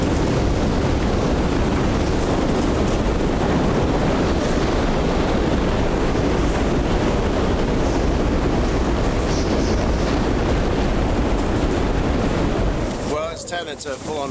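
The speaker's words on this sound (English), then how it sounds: "It's a full-on blizzard out there." A full-on blizzard blasts against a tent on an ice expedition, a continuous loud roar of wind and buffeting gusts that ends in a few sharp flaps and rattles.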